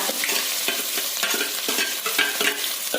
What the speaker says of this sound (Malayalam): അത് നല്ലോണം നമുക്ക് വാട്ടിയെടുക്കാം.